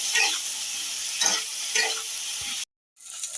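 Ginger and green chilli paste sizzles steadily in a pan as a spoon stirs it in a few slow scraping strokes; the sound cuts out briefly near the end, then resumes.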